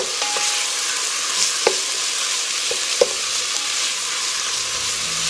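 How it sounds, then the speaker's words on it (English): Onions and carrots sizzle steadily in a pan with a constant hissing fry, broken by a few sharp clicks and scrapes from stirring, close and alone without talking. "Now I'm going to add my carrots. Give those a quick stir."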